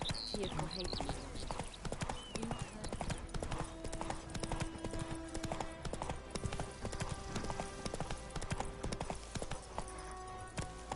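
Horse hooves clip-clop in a fast, steady rhythm in The Witcher 3, close and continuous, while voices talk over them.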